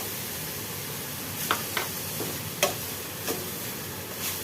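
Carrots and sugar are stirred in a pan over a soft, constant sizzle, with a handful of sharp spoon scrapes and taps spaced irregularly, close and fairly quiet.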